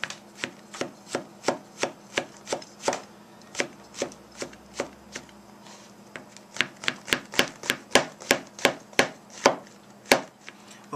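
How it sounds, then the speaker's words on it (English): A knife chops mushrooms on a cutting board in a home kitchen, making a run of crisp, rapid taps that speed up into a fast steady rhythm, close and distinct with no talking. "Right now I'm chopping mushrooms."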